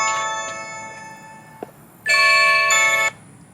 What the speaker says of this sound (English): We're installing the Blink doorbell camera.